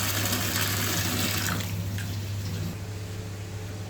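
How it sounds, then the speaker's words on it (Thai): Plain tap water runs steadily in a continuous, close splashing rush as something is rinsed under it. "ล้างน้ำเปล่าธรรมดาเลยนะครับ เสร็จก็ล้างไปเลย"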